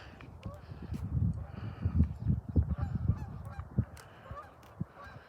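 A flock of geese honks repeatedly in loud, overlapping bursts close by, with a steady outdoor rumble underneath.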